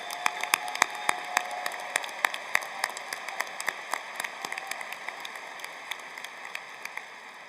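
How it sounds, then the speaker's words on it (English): Audience applause for faculty at a Carlson School of Management undergraduate commencement ceremony, a sparse, moderately quiet patter of scattered claps that thins out over several seconds. "Let's give them a round of applause"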